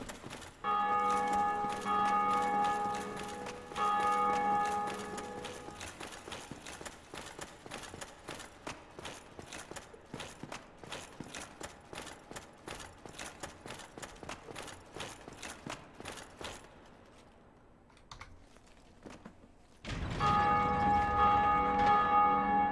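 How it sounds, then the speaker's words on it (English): Large bells ring out in Dark Souls, with sustained tolling at the start and a loud return near the end, while echoing footstep-like clatter fills the quieter middle. "You can hear all the bell ringing, which means you know we must be close."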